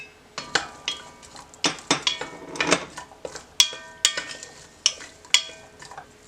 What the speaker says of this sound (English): I'm going to go ahead and drop in our carrots, garlic, and onion.